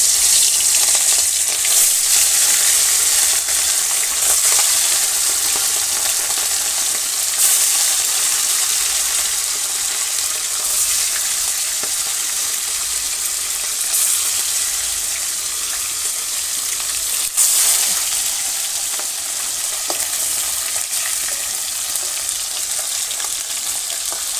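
Hilsa fish frying in a wok in a village kitchen, with a loud, constant sizzle and crackle of hot oil that holds steady throughout, with no talking.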